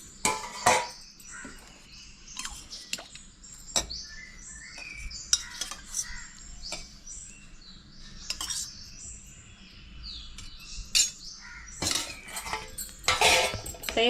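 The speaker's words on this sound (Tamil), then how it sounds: "தயிர் சேர்த்து நல்லா கலரி விடணும்" Spoon scraping and clinking against a vessel while curd is stirred into cooked rice for South Indian wedding-style curd rice, irregular taps and scrapes at close range, with faint bird chirps in the background.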